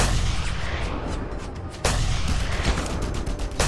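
Sniper rifle shots ring out in the video game Just Cause 2, with a sharp loud blast midway over a dense, rumbling game soundscape.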